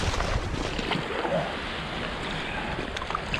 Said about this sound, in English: Here, the ocean.